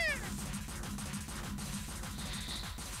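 A cat meows repeatedly in the video game War of the Human Tanks ALTeR, set over a steady, busy game soundtrack with a rhythmic low pulse.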